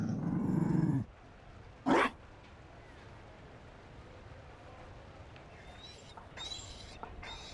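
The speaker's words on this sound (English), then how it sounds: "You found a dog." A Mabari dog in the video game Dragon Age Inquisition gives a low, close growl for about a second, then a brief sharp bark, followed by quiet ambience and faint later sounds.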